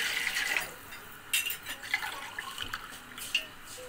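Water poured into a pot for Arabic mandi rice, splashing and trickling in short bursts close by, uneven and moderately quiet, with no talking.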